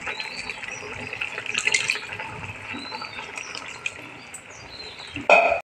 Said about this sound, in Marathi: सगळं मिक्सरचं पाणी घालणार आहोत त्याच्यात